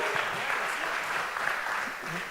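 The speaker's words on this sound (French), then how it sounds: "On l'applaudit, c'est le gagnant 2017." An audience at a trophy ceremony applauds the previous year's winner, a dense and steady clapping crowd at close range that eases slightly toward the end, with faint murmurs beneath.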